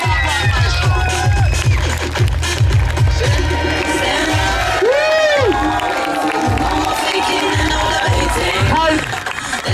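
A crowd at an outdoor performance in Ustka cheers, shouts and whoops continuously, loud and close, with an announcer's voice and rhythmic music pulsing underneath.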